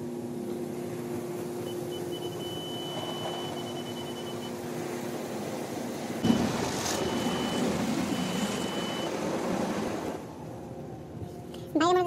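Automatic car wash machinery runs around a car from inside, a steady mechanical whir with a sensor beep tone, then a loud rush of spraying water and wind that drops off near the end.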